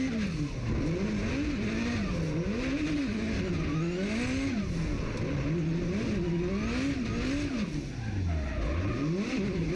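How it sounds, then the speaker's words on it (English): A drift car's engine revs and bounces between high and low pitch during a handbrake turn, holding in the torque range with repeated wavering surges and a sharp dip near the end. Tire noise runs underneath, heard at a moderate distance. "when he handbraked there, he revved it up, kept it in the torque range so he could dump the clutch off of handbrake."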